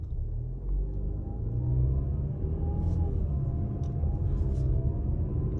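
A 2022 Mazda CX-5 engine under light throttle heard from the cabin, revving toward about 3,500 RPM, a steady low rumble with a mild rise in pitch and no talking over it.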